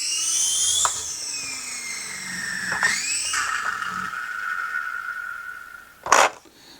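A GoolRC K127 micro RC helicopter spools up for takeoff with a faulty tail rotor, giving a near, high whining motor pitch that sweeps down and then holds steady, with brief clicks and a sharp rattle near the end.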